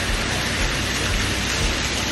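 Steady rain pours down along a roadside at Ormanjhi on the way to Ranchi, a dense, even hiss that fills the whole stretch without a break, loud and close, with no voices.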